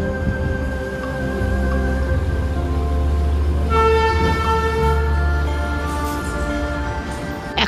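A steady Darjeeling toy train horn toots continuously over a low rumbling engine, fairly loud and sustained throughout.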